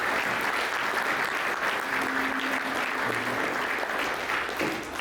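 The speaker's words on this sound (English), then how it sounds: "let's give him a round of applause" Audience applause for a keynote speaker at a real estate investment seminar, a steady, even wash of many hands clapping that carries at moderate level through the whole stretch with no break.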